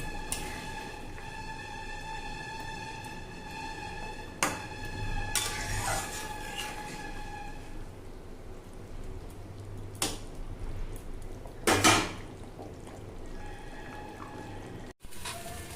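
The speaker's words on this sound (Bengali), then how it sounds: "এই যে এখানে মাছের ঝোল ফুটছে" Fish curry (machher jhol) simmering in a pot, giving steady soft bubbling and liquid dripping sounds with a few louder splashy bursts over a faint steady tone.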